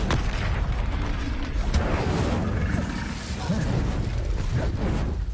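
A burst of fire from the Incendio spell in the video game Hogwarts Legacy, roaring and crackling loudly and continuously with booming thumps, amid dense game combat noise.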